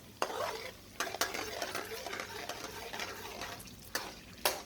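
Spices frying in oil and butter in a pan give a steady sizzle, broken by several sharp clinks and scrapes of a utensil stirring against the metal.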